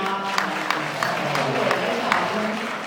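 Wedding guests applaud in a steady wash of clapping with a few sharper individual claps on top, sustained for about three seconds while voices murmur beneath.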